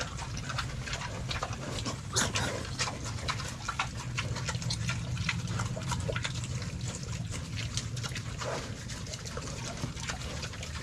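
Native piglets grunt and snuffle as they feed, with wet sloshing and trickling liquid sounds running close and steady throughout.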